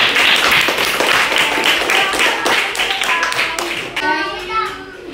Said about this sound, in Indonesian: Kelompok 1, kelompoknya Kalisa, silakan kasih tepuk tangan.